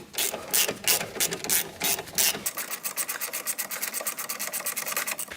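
A wrench ratchets and grinds while tightening the front brake caliper screws on a Peugeot 107 / Toyota Aygo, with loud rubbing strokes at first, then a rapid, even series of clicking ratchet turns.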